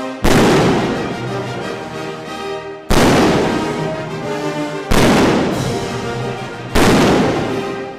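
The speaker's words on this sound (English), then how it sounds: "a familiar ditty that plays as each bomb is caught" Game sounds from Kaboom! on the Atari 5200 as falling bombs are caught: four loud, ringing booming hits about two seconds apart, each fading away before the next.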